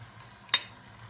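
A metal ladle clinks once against the side of a kazan while oil is scooped out during cooking of kazan kebab, a single sharp, fairly faint ring over quiet background hum.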